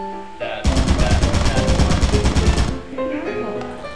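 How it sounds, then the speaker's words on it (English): Automatic turret in the video game Lethal Company firing a rapid, loud burst of machine-gun shots lasting about two seconds, with quieter game sounds before and after. "Come here, you fucking turret!"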